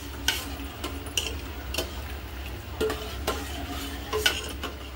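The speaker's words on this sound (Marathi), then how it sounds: "तर ही थोडी वेलचीची पूड टाकू याच्यामध्ये आणि सगळं मिक्स करून घेऊया" A sweet dish being mixed with a spoon after cardamom powder is added, giving repeated light clinks and taps on the pot amid a soft stirring texture, fairly quiet and without talk.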